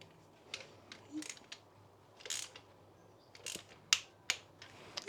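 A Triumph Bonneville 790 engine's starter motor gives small, dry mechanical clicks, a few scattered ones and then a couple of sharper ones near the end, close and quiet in a still workshop.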